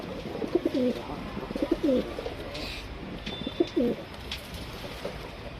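Cooing of a male Boori pigeon, several soft throaty coos in short phrases, close and fairly clear over light background noise.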